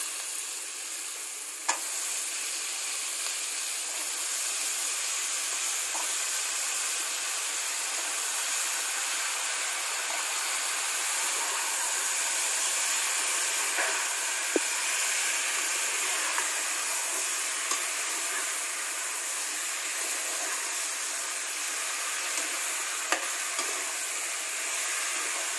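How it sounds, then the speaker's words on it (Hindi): Potatoes for aloo ka saag are added to the frying pan and stirred. A loud, continuous sizzle hisses throughout, broken only by occasional faint scrapes of the spoon, with no talking. "तो अब मैं डाल दूँगी आलू।"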